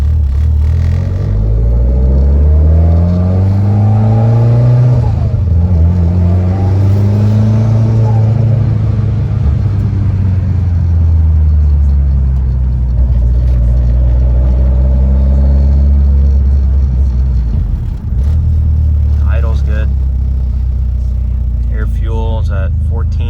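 A retuned car engine with a check engine light and cam sensor fault, running loud and close from inside while driving, rising and falling through several revving sweeps, with someone talking over it.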